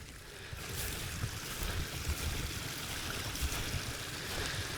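A small mountain stream (gill) on a fell hike flows with a continuous rushing hiss and low burbling, steady and fairly close, with wind mixed in and no talk.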